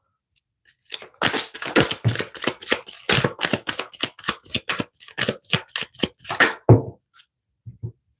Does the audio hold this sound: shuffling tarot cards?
yes